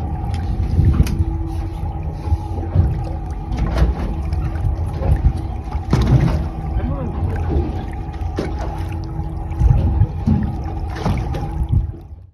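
Boat engines drone on cold Alaskan waters during a wildlife trooper rescue of struggling deer, a steady low rumble with a whining tone and water wash beneath, running close and loud throughout.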